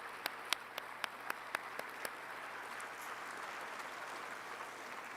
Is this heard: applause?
yes